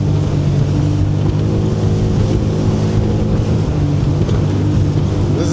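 Sea-Doo personal watercraft bouncing across choppy waves on Georgian Bay, a loud steady engine drone mixed with splashing water and wind rush, close and unbroken.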